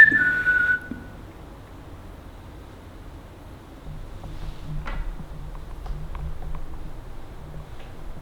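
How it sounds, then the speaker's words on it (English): A person gives a short, bright whistle at the start inside a quiet underground bunker, lasting under a second, followed by near-silence with faint low rumbles and scattered ticks. "could you whistle like this?"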